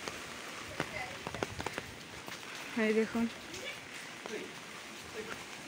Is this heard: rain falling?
yes